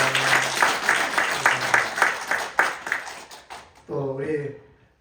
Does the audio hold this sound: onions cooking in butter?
no